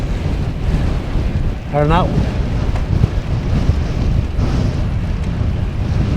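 Steady, loud wind buffeting a microphone while riding a road bicycle fitted with 50 millimeter deep rims, a dense rush filling the whole clip, with a brief spoken word partway through.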